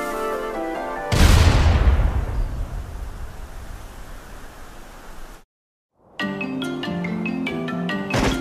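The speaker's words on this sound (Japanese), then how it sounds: "大砲で神殿までひとっ飛び。" A single loud booming cannon blast from the game Secret of Mana bursts out, then a long hissing rush of noise fades away before cutting to silence and upbeat game music.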